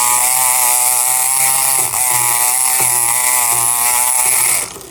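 A Kronos electric lock pick gun running continuously, a loud close high-pitched buzzing whine with slight dips in pitch before it cuts off at the end.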